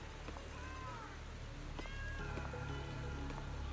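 Kitten meows in the video game Zenless Zone Zero, a few short rising mewing calls at moderate level over a steady, busy game background hum.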